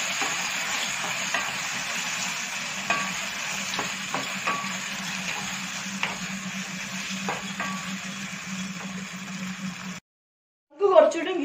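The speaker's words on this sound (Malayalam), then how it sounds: "നന്നായിട്ടൊന്ന് മിക്സ് ചെയ്യണം" Chilli chicken gravy with chicken stock being mixed in a pan, a steady close sizzle with scattered soft scrapes and taps of the spoon, briefly cutting out before a final burst of stirring.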